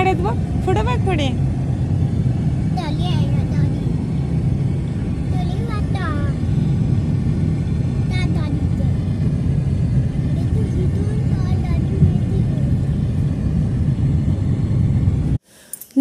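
Road traffic rumbles steadily past a moving vehicle on a trip to a village near a tunnel, a loud, continuous low drone with occasional passing swells. People talk over it throughout.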